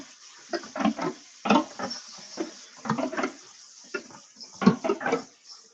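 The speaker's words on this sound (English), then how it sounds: "I'm gonna pour these into a colander and rinse them off." Soaked beans are rinsed under water in a colander, producing irregular splashing bursts and rattling clatters of beans shifting, close and intermittent with quiet gaps between.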